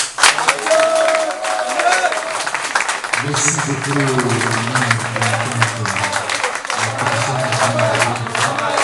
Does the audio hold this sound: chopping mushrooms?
no